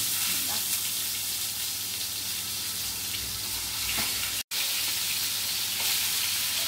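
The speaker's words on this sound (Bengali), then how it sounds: "এই তো এখন আমি ফ্রাই করব।" Home-made chicken frying in oil heated to 240 °C, a dense continuous sizzle and crackle throughout at close range, with a brief sharp dropout partway through and a faint low hum underneath.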